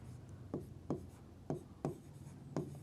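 Five short chalk-like strokes scratch across a classroom board, spaced irregularly about half a second apart, each a brief rasp standing out from a quiet room with no talk.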